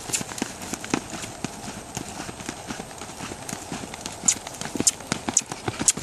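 A ridden mustang gelding's hooves clip-clop in a quick, even rhythm on soft ground, moderately close, over a steady background with occasional faint voices.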